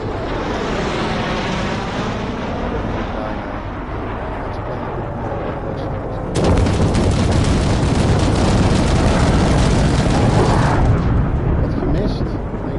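An airstrike in Armored Warfare on PS4 lands with a sudden loud roaring blast midway, following aircraft-like droning and battle noise, while someone comments over it.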